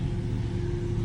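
A Lamborghini Huracan creeps away after its brake is released, with a steady low engine rumble heard close by, moderately loud and unbroken for a brief moment.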